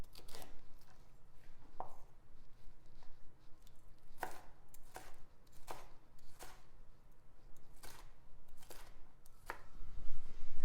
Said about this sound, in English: spin it and cut the bottom off, and then you come up and trim the rib